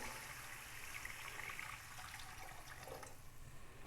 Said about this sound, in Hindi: अब इसके अंदर चावलों के लिए पानी डाल देंगे